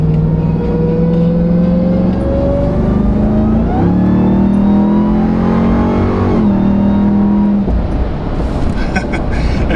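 A Ram 1500 TRX pickup engine with an aFe intake revs loudly and continuously, its pitch rising and holding, with a high supercharger whine layered over the deep roar.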